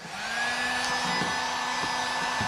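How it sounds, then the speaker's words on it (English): An old heat gun blows steadily up close while warming plastic parts on a Traxxas XRT RC truck, a constant whooshing hum with a few faint knocks. "I take my old heat gun"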